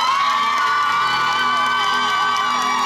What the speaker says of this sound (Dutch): Uw applaus voor Janne Kroenen.